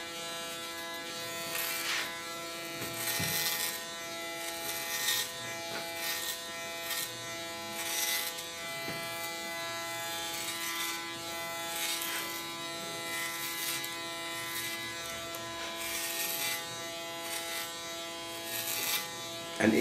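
Electric hair clipper buzzing steadily through short hair, a close, tonal hum with repeated brief bursts of cutting rasp as strokes pass, fairly quiet and alone.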